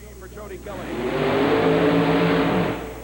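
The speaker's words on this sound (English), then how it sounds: "And Kelly shuts the engine down as the car begins to go into a power stand." A mud racing car's engine roars and revs at a 1991 monster truck event, climbing in pitch and holding at a loud, strained high before easing slightly at the end.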